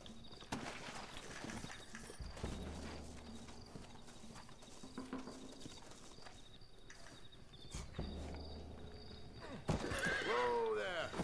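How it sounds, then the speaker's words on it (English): Horses in the Red Dead Redemption video game whinny and clop along amid music and game effects, with a loud neigh near the end and people talking over the action. "Looks like Carlos left us some horses."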